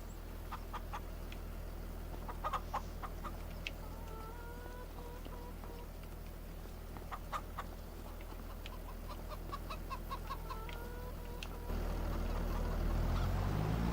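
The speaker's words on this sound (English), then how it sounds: "Chickens are not on that side, they're on this side" Chickens clucking in the video game Farming Simulator 25, scattered short clucks and calls over a steady low farm ambience, moderately near, with a louder wash of background noise near the end.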